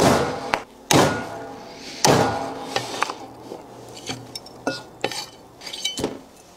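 A cleaver chopping a beef hoof into small pieces in a kitchen, a run of irregular knocks and clinks against a board, some loud and some soft, with faint metallic rattles between strikes.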